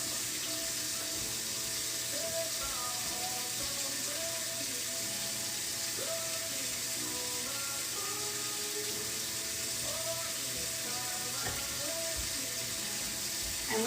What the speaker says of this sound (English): Just have to rinse out the hoodie.